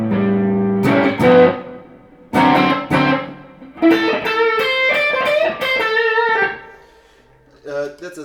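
An electric guitar with mild overdrive plays short chords and sustained single notes in bursts, with pauses between phrases.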